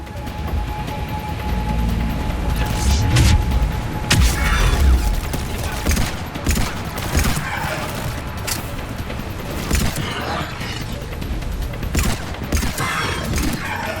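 Rapid bursts of gunfire in the Mass Effect 3 Leviathan DLC combat, sharp cracks and thuds repeating over a loud, steady rumble of battle noise throughout, with no voices over them.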